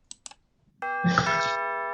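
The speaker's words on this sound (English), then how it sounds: "there goes the doorbell" After two soft clicks, an electronic doorbell chime sounds loudly and rings on, its sustained tones filling the room.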